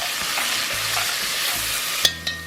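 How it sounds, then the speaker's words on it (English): A whole onion dropped into hot bacon fat in a pot outdoors, with a loud, steady close sizzle and two sharp knocks near the end as it settles. "now, going in the pot with one whole onion into that hot fat"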